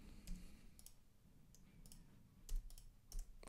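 Quiet computer keyboard typing, a handful of sharp key clicks spaced irregularly, with a couple of louder taps near the end.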